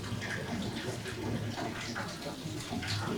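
Holy water flowing from the rock walls of a village shrine, a steady close splashing trickle like water running into a basin, continuous and fairly loud with no talk.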